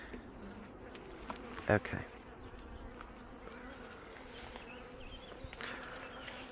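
Honey bees buzz steadily around an open beehive in an apiary while frames are pushed back during hive expansion, with a short louder knock partway through and a brief spoken word.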